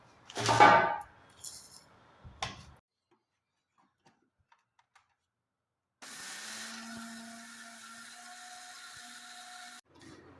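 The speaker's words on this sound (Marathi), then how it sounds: "आता परत मिक्सरमध्ये आपण हे फिरवून घ्यायचं" A mixer grinder motor whirs steadily for a few seconds after some clattering, grinding horse gram into flour, then stops abruptly.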